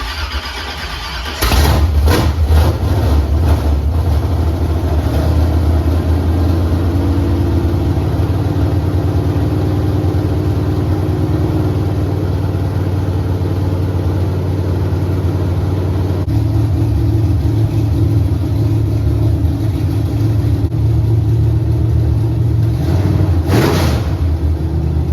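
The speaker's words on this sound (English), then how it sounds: "This is the first time starting the motor in the car." A 1979 Camaro Z/28 V8 with freshly ceramic-coated headers cranks and fires for the first time, then runs loud and steady at idle with a few revs, close by.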